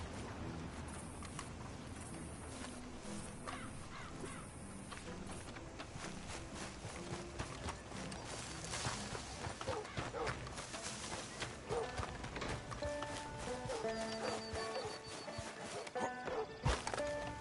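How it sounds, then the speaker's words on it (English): Horse hooves clip-clop at a steady walking pace in the Red Dead Redemption 2 video game, moderately loud amid music, game ambience and occasional speech. "That's a fine horse you got there."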